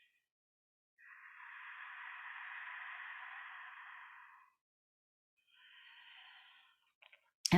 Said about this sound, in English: we start practicing Ujjayi pranayama, which means victorious breath